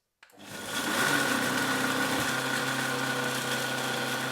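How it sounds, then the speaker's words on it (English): Electric blender pureeing dehydrated garlic into powder, a loud, steady high-pitched motor whir that starts abruptly and runs continuously with a grinding rattle, no talking. "let's put it on, and let's puree it"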